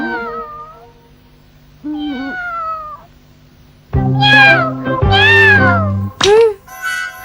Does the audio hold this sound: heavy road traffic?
no